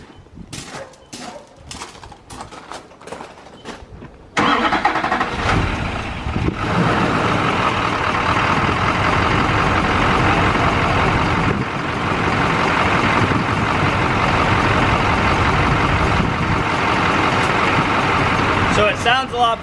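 An LB7 Duramax diesel pickup that had sat unused for six years cranks over with rapid clicks, then fires up and settles into a loud, steady rumbling idle, with people talking nearby.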